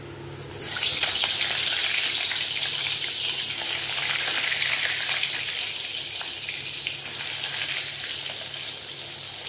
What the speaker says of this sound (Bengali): এবারে এই ম্যারিনেট করা বেগুনগুলো ভেজে নেব।